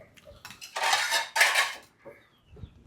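Plates and cutlery clink and clatter in two loud bursts as a plate is taken out, with quieter knocks before and after.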